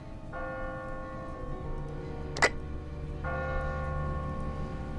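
A church bell tolls in The Walking Dead video game, its long ringing tones sounding twice with a gap between them over a low, steady ambient rumble, broken once by a sharp, brief clang.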